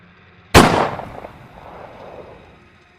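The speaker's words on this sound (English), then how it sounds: "a gunshot broke the stillness of the night" A single sharp gunshot sound effect cracks loudly and close, then trails into a long fading echo as if across an open night, alone without talk.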